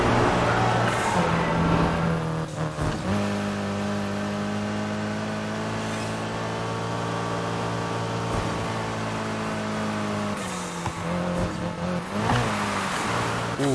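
A car drifting in the racing game Need for Speed: Heat, its engine holding a loud sustained whine that dips and rises in pitch near the start and end, with no talking.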